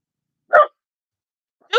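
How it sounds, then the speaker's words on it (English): A dog gives two short, sharp barks about a second apart, close and clear against silence, with no talking around them. "That's my doggy."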